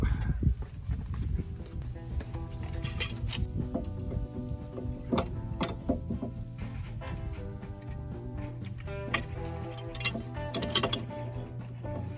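A simple clamp is tightened to push a brake caliper piston back into its bore, giving off irregular close clicks, creaks and ratcheting metal sounds against a low background rumble.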